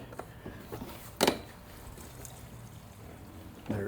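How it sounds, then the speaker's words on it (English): A small amount of fresh gasoline poured into the fuel tank of a Briggs & Stratton-powered lawn mower, a faint, soft liquid trickle with a couple of brief louder splashy bursts. "We're going to put just a little bit of fresh gas"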